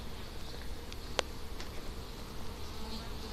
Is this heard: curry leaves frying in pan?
no